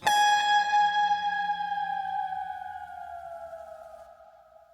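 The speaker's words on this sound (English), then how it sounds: "the drop-off in pitch, we have the increase in volume for the tail" A bright lead synth note with rich harmonics swells in and slowly slides downward in pitch as it pans across, ringing out alone for several seconds with a long fading tail.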